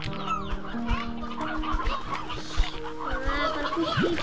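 Chickens in the video game Slime Rancher 2 cluck and squawk continuously near a coop, with layered calls over a steady game soundtrack and no talk.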